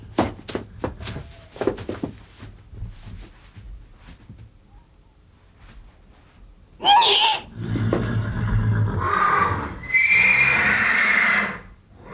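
Horses answer one another with loud, shrill neighs and whinnies near the mare, several overlapping calls following a quiet stretch broken by a few dull knocks.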